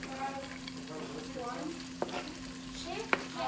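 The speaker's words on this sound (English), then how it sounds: "You put that in, and then you give it a stir." Onion and celery being stirred into a pot, a soft steady sizzle with a couple of sharp utensil knocks against the side, fairly quiet with a low steady hum beneath.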